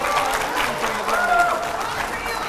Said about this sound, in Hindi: चलिए तो ये यहां पर जोरदार तालियां हो जाए जरा।